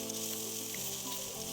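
Chikni greens cook with fish heads in a pan for a chorchori, giving a brief, steady frying hiss that stays even throughout, with no voices.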